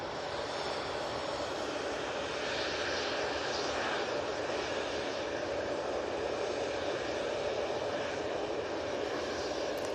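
A Bombardier Global 6500 business jet at Manchester Airport gives a steady, moderately distant engine roar with a faint whine that holds evenly throughout.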